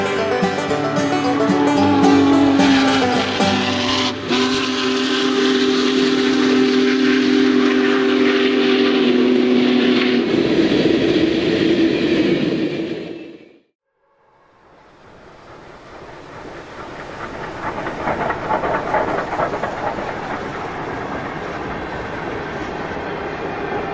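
Union Pacific Big Boy 4014 steam locomotive passes with a long sustained whistle blast and roaring chuff, fades briefly to near silence, then returns as a loud rumbling run of rail cars.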